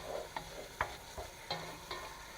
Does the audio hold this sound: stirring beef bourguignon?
yes